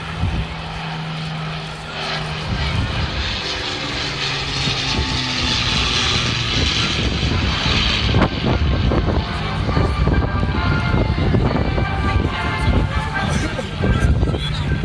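An Avro Lancaster bomber flies past at Southport Airshow in 2017, its propeller engines making a loud, sustained drone that swells and holds, while an announcer's voice talks over the public address.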